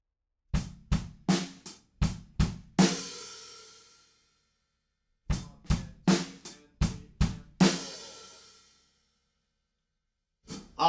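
A drum-kit groove from a song, with a hi-hat sizzle landing on beat four together with the snare. Two loud bars of sharp kit hits end in a long ringing wash, separated by a pause, with no talk.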